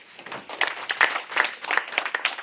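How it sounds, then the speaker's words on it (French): Scattered applause for a minister at an official handover ceremony, a thin smattering of separate claps from a small audience, uneven and fairly close. "Je voudrais qu'on applaudisse pour monsieur le ministre."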